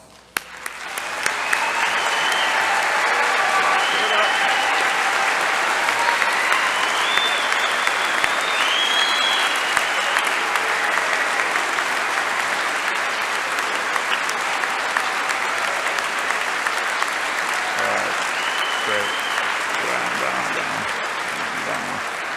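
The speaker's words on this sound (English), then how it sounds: "Will our students and faculty please rise and accept a round of applause celebrating this milestone?" Students and faculty rise and applaud at a December recognition ceremony, a loud, dense, sustained round of clapping that starts abruptly, holds steady for about twenty seconds and tapers slightly at the end, with a murmur of crowd voices underneath.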